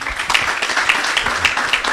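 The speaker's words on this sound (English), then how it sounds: "I think this is just a round of applause." A live audience at a campus dialogue session held in a hall called the Hive applauds, a brisk, fairly loud patter of many hands clapping at once.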